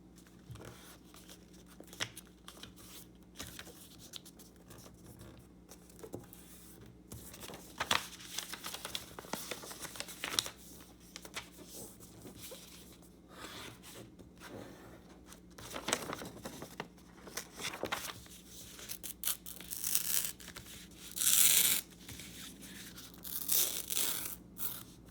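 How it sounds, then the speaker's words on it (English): Excess paper is torn and crinkled off a folded origami water bomb in short, close, quiet bursts of ripping and rustling. Faint handling noises fill the gaps. "you can cut or tear the excess off"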